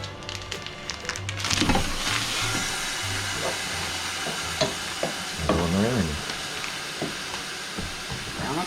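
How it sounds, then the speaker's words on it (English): Three pounds of ground beef hamburger browning in a pan for chili, a constant loud sizzle with scraping and stirring noises, a voice speaking briefly over the frying. "Brown up the burger. Start cooking that and get it all browned up."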